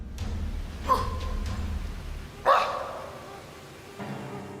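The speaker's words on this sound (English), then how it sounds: "Then one of the most chilling noises is that of a growl or a bark." Two sharp barks from an unseen creature in dark woods, spaced a couple of seconds apart and fairly close, over a steady rustling, hissing background, followed by a fainter third sound.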